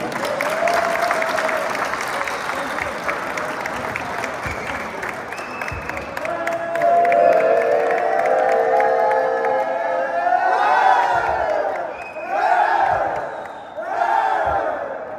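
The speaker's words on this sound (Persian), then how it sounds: "دوستان تشویق کنند" A crowd at an awards ceremony for a tournament claps and cheers for a long stretch, with loud sustained applause, shouts rising through it and a few swelling whoops near the end.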